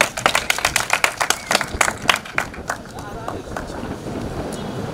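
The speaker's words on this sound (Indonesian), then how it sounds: "kita kasih aplaus dulu" A small audience at a community talk event claps for a speaker coming forward: a brisk burst of close applause that thins and fades after about two seconds, with voices underneath.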